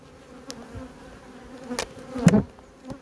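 Honeybees buzzing at a hive in spring, a low, steady drone with a few louder passes as individual bees fly near.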